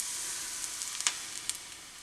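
Vegan pancake batter cooks in a frying pan with a steady, soft sizzle and a few small pops and crackles near the end. No one speaks.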